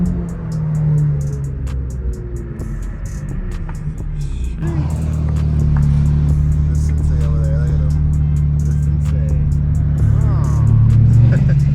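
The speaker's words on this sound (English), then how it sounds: "It literally sounds like blow-off valves, but they're not blow-off valves." A turbocharged car's intake gives off airy whooshes like blow-off valves over a loud, steady engine drone that swells after a few seconds. People talk throughout.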